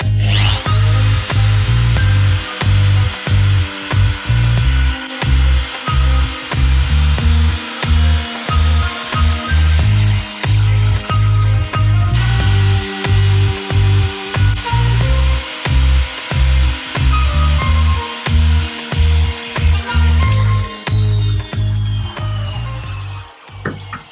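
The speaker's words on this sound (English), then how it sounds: "the router is on this side and does the cutting here" A wood router guided by a stylus following a pattern cuts a flute, its motor whining loud and close in repeated bursts as the cutter bites and eases along the workpiece.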